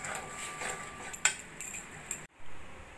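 A spoon scrapes and clinks against a cooking pan while stirring oyster mushroom masala curry with garam masala and ghee, giving light scattered metallic taps and scrapes close up, with one sharper clink, and no speech.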